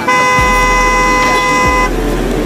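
Loud, sustained car horn blaring nearby for about two seconds over steady Manila street traffic rumble, then fading out.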